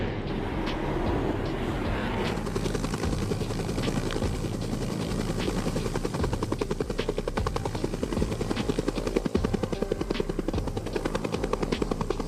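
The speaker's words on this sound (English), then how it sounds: "A Polish Army Mi-24 combat helicopter crashed with 4 Polish soldiers on board" A Polish Army Mi-24 combat helicopter at a base in Afghanistan, its rotor thudding loudly and continuously in rapid rhythmic chops over a heavy low engine roar, close and steady throughout.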